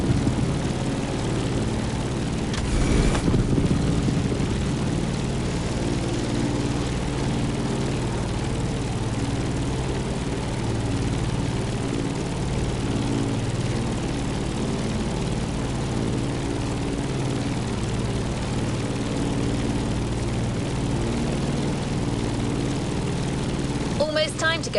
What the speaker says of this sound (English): So we decided to go aerial, vintage, and bold with the Grumman Bearcat F8F.